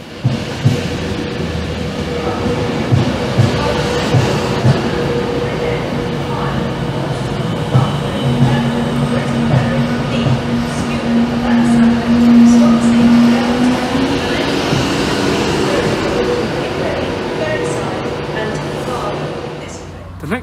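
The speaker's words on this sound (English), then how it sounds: "The next train rolling to Stockport station on this bank holiday Monday is the Transport for Wales service to Carmarthen." A Transport for Wales train to Carmarthen rolls into Stockport station on a bank holiday Monday, producing a steady broad rumble with a sustained tonal hum swelling midway. Background voices mix in throughout.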